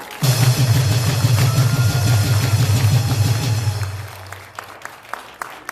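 A rally crowd applauds loudly and steadily for about four seconds, then the clapping thins out to a few scattered claps near the end.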